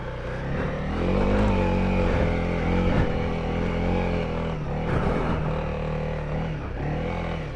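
Honda CRF 300 L dual sport motorcycle ridden through Utah desert terrain: a close, steady engine drone with harmonic hum, small rises in revs and brief throttle changes, continuous for several seconds.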